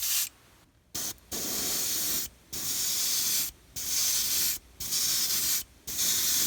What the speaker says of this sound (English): So let me spray this top coat on there.